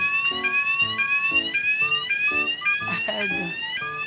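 Rising, repeating electronic alarm tones sound loudly in a busy city centre in Malmö, Sweden, cycling steadily about every half second with chirpy beeps layered in, while people talk nearby.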